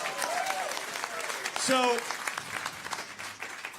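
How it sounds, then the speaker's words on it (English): A live concert audience claps in a dense, steady patter at a band's New Year's Eve show, with a whistle cutting through midway and a voice speaking briefly over the applause. "Hey, audience, applaud for yourselves."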